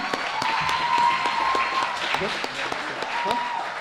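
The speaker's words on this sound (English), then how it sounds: "So we want to give a special round of applause for them" Audience applause at a National Honor Society induction and awards ceremony, a dense steady burst of many hands clapping close by for a few seconds, with voices mixed in underneath.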